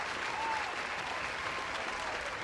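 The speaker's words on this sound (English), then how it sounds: "Well deserved, the applause for the two battlers in Success and Limah." Audience applause for two battlers at a fan battle event, a dense steady wash of clapping from a crowd heard alone throughout.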